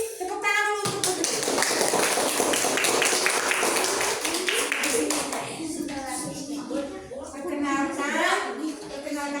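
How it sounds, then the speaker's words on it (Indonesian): A classroom of children claps for a student at the front, a dense burst of applause filling several seconds, with kids' voices before and after. "Tepuk tangan dulu untuk Putri."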